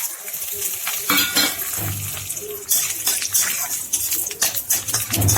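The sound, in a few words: spices (black cumin, dried chilli, bay leaf) frying in mustard oil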